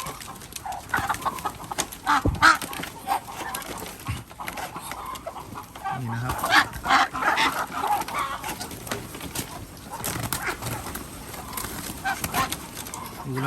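Thai breeder ducks are caught on a farm, with frantic quacking, squawks and rustling bursts from a close flock, scattered unevenly throughout.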